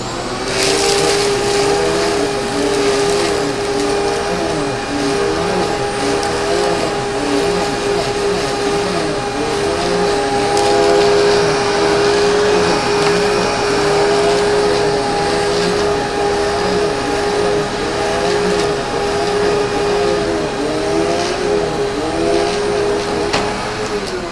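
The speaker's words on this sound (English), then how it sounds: "So first thing I'm going to do to this dry spot is run a vacuum over it." A vacuum cleaner's brush roll runs steadily over a dry spot on carpet, a loud, continuous whine with a sustained tonal hum that holds for the whole stretch with no talking.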